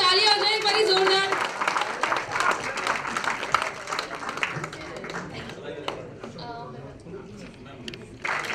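Audience claps at a special film screening, clapping mixed with talk and a singing or announcing voice at first, then thinning into scattered claps.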